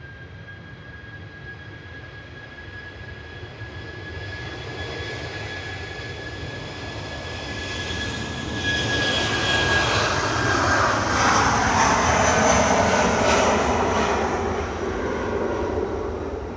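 Icelandair jet departing runway 23 left at Manchester Airport, a steady broadband engine roar with a high whine that swells toward the middle and stays loud to the end, no voices.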